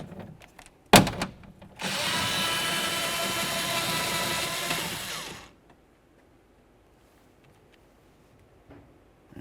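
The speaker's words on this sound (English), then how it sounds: "We'll use our 10mm with a short extension, remove each of these 2 mounting bolts." A power tool fitted with a 10mm socket and short extension unscrews a window motor mounting bolt on a 2003-2007 Honda Accord, a sharp click and then about four seconds of loud, steady whirring before it cuts off, followed by faint handling noise.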